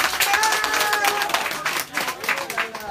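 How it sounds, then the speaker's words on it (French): People applaud at a charity event, a close burst of clapping mixed with crowd voices that rises and dips over a few seconds, with someone talking over it. "on applaudit pour ça"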